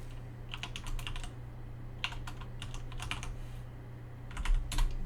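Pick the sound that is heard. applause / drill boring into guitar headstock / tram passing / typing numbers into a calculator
typing numbers into a calculator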